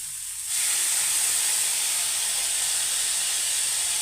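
Tomatoes go into a hot pan of Punjabi-style aloo matar, setting off a loud, steady hiss and sizzle that jumps in suddenly and holds evenly close by.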